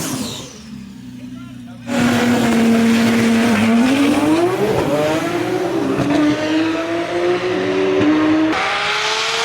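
A 1650-horsepower Nissan GT-R drag car launching down the strip at a drag race, a loud engine roar climbing in pitch as it accelerates, heard at moderate distance after a quieter opening, with crowd noise around it.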